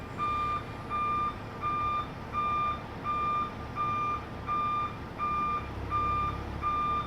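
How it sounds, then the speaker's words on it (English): Trucks back up with a steady, evenly spaced series of reversing beeps, about ten tones over a low engine rumble at moderate distance, with no talking. "I hear the trucks rolling in. Back them up. Back them up."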